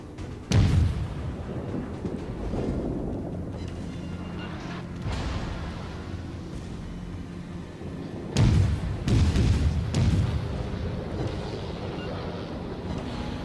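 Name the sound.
torpedoes hitting in the video game World of Warships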